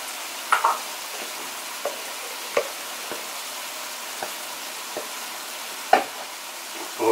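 Red chili powder and paprika powder mixed in a hot pan, a soft low sizzle with sparse, light scrapes and taps of a spoon every second or so, close up and without voices.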